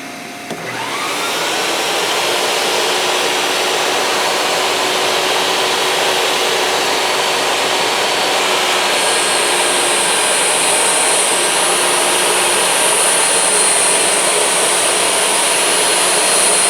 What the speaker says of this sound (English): Wow, the vacuum is doing awesome.